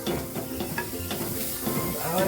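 Chopped onions tossed into a pan for a mackerel curry, giving a steady close sizzle and hiss with scraping stir strokes throughout.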